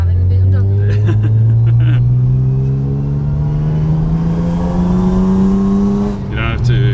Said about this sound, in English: What you doing? Driving the BMW.